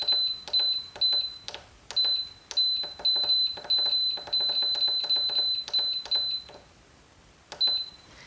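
Instant Pot pressure cooker buttons beeping in quick succession while the cook time is set, a run of short, bright, evenly spaced electronic beeps with brief pauses and one last beep after a gap.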